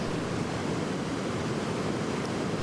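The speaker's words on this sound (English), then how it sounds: "Actually, they are rapids which are formed by the Okavango here." Rapids of the Okavango River at Popa Falls give a steady, broad rushing roar of moving water, constant and fairly close, with no voices.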